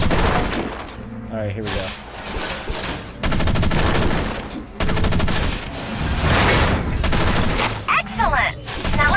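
Machine-gun fire from a mech in Front Mission Evolved, loud and close, in dense bursts separated by short pauses, with someone talking briefly over the shooting.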